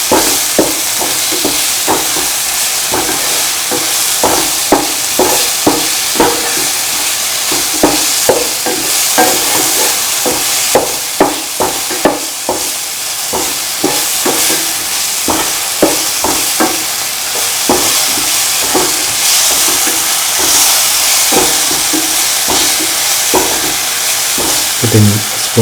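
Vermicelli and egg pasta mixture stirred and mixed with salt in a hot pan, a continuous loud sizzle with rhythmic scraping strokes of a spoon against the pan, with no speech.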